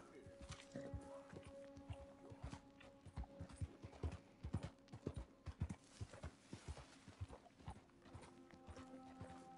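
Horse hooves clip-clop in a steady, uneven rhythm in Red Dead Redemption 2, loud and close, with someone talking over them at times.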